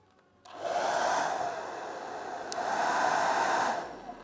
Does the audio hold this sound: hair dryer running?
yes